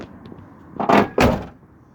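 The door of a 1980s to 1990s Chevy truck is swung shut in two quick heavy thunks about a third of a second apart, close and loud, with quiet surroundings before and after.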